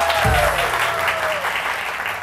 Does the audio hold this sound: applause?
yes